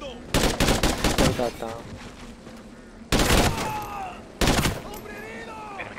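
Bursts of automatic gunfire in Call of Duty Ghosts during the No Man's Land mission: a long rattling volley, then two shorter loud bursts with pauses between, and someone speaks briefly.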